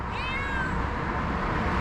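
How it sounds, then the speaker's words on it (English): A wild cat sitting on a rock on a hillside trail near Cristo de Copoya, Tuxtla Gutierrez, gives a single drawn-out meow over steady wind noise. "There is a cat there."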